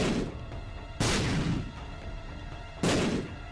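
Bombs exploding in The Binding of Isaac: Rebirth during a Samson run, two loud, sharp blasts about two seconds apart, each decaying into a rumbling tail.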